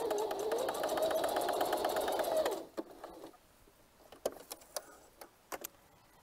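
A home sewing machine runs steadily for about two and a half seconds, stitching fabric with a fast even whir, then stops, leaving scattered light clicks and handling taps.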